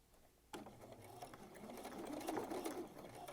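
A sewing machine stitching across a thick denim seam starts up after a brief quiet moment, then runs as a fast, steady mechanical whir with rapid needle clatter, close and clear, no talking.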